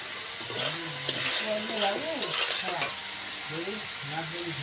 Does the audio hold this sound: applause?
no